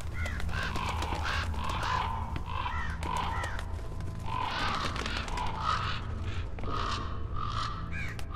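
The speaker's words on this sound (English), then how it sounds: "That's a lot of birds." A flock of crows caws over and over in the horror video game Song of Horror, the harsh calls coming in irregular bursts over a low, steady ambient drone.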